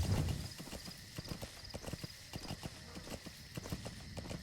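Horse hooves clip-clop steadily in Metal Gear Solid V, a quick even run of close, crisp hoof strikes carrying on without a break over a faint background hum.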